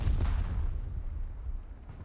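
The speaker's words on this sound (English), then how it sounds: "Yeah, these mortars are a lot better now." Mortar fire in Company of Heroes 3, a deep booming impact at the start that rumbles and fades into a low, distant battlefield roar.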